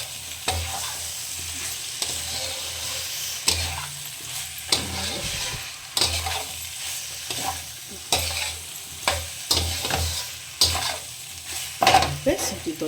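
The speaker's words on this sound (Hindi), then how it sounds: "सब्जी तो अच्छे तरीके से भून चुकी है" Potatoes and radish stir-frying in a pan, a steady sizzle broken by repeated sharp scrapes and clatters of a spatula stirring the vegetables close up.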